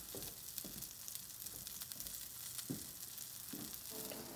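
Brussels sprouts sizzling cut side down in a warm skillet, a faint, steady crackle and hiss with a few soft clicks and bumps as they settle.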